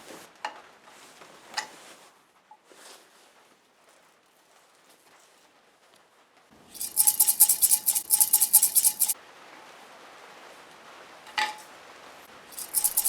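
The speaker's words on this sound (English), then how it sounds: "Why do the mirrors rattle so much?" Wing mirrors rattling and clinking as they are taken off a Honda CB500 motorcycle, in a loud metallic burst of rapid ticks lasting a couple of seconds, with fainter scattered clicks before and after.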